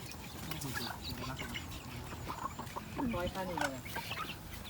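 Laying hens on a farm clucking and murmuring in a group, with a burst of busier clucking toward the end and faint people talking in the background.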